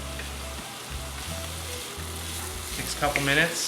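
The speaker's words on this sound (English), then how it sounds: "So my butter is nice and brown, and I'm gonna add my onion." Onions sizzling steadily as they fry in browned butter in a pan, a loud continuous crackle, with a person talking briefly over it.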